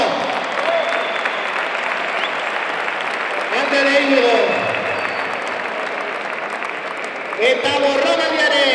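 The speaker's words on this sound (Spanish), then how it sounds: "Por favor, un fuerte aplauso" Loud, sustained applause from a crowd at a bertsolari-style verse duel between Ander Llodio and Iñigo Medrano, filling the whole stretch with a brief voice speaking over it.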